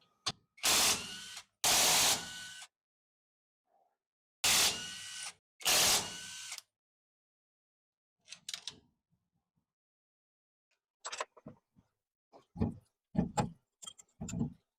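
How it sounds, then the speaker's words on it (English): A ratchet wrench works loose 16mm bolts on differential bearing caps, with bursts of fast mechanical ratcheting in two pairs, followed by scattered clinks, taps and metal handling sounds at close range. "we're going to go ahead and take these caps off with the 16mm bolts"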